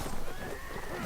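Mercenary cavalry horses in Mount & Blade: Warband, a brief burst of hoofbeats and a whinny amid battle noise, loud and close.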